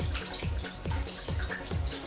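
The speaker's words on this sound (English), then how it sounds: "just kind of go down and squeeze out the water a little bit so it's not dripping all over your floor" Water is squeezed out of a soaking wet wig and runs and splashes steadily, with soft rhythmic pulses of trickling and dripping as it is pressed out, fairly quiet and with no voices.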